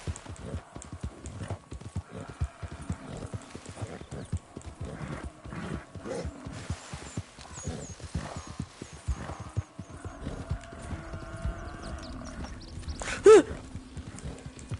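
A horse gallops in the video game Red Dead Redemption 2, with rhythmic hoofbeats close by, a brief whinny near the end, and quiet ambient sound beneath.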